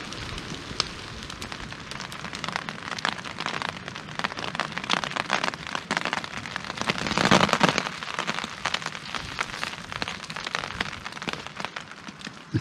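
Rain pattering at a winter hammock campsite, a dense, crackling patter of drops on nearby surfaces that swells briefly in the middle and never lets up, with no one speaking.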